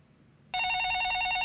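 A telephone rings for an incoming call during a live stock-market call-in broadcast, the electronic ring starting abruptly after a brief quiet moment and holding steady and loud to the end.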